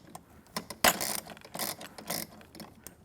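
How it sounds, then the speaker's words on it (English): A ratchet clicks in short quick bursts while tightening a bolt on a Studio Reformer Konnector with metal risers, close and fairly quiet, with brief pauses between strokes. "I'm going to press it all the way up there and tighten the bolt"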